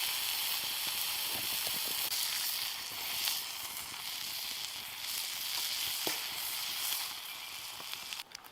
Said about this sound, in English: The dark metal pan absorbs radiant heat efficiently, boiling water in the bitter cold.